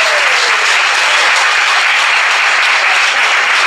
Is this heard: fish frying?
no